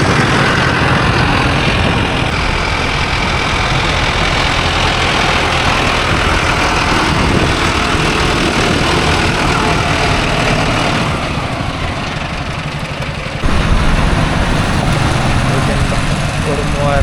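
A Mahindra Arjun Novo 605 DI tractor engine runs in a coconut grove, a loud, steady, rough diesel drone that fills the whole stretch, with voices talking over it.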